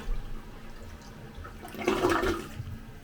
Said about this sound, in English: And then eventually it'll flush.